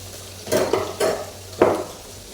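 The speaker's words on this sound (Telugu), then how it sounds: "ఇలా బంగాళదుంపలు వేగుతున్నాయి కదా" Potatoes fry in oil in a pan on a stove, and three or four short bursts of scraping and stirring rise over a quiet background hiss.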